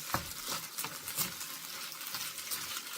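Fried rice is mixed in a hot pan, short spatula scrapes and a soft sizzle close by, brief and alone.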